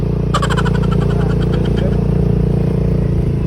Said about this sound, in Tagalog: Paandarin mo na yung motor.